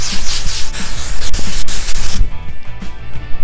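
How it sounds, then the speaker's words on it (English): Texture spray hisses from a can onto hair during boho wave styling. A loud, close burst of aerosol hiss lasts about two seconds and then cuts off, leaving faint rustling. "And now I'm just gonna grab more texture spray."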